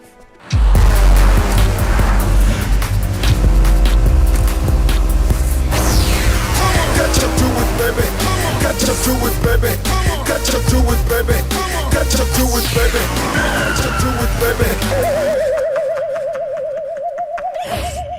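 A car roars in loudly and brakes hard, a long rush of engine and road noise with crashing, rumbling surges, then fading as a high whine rises near the end.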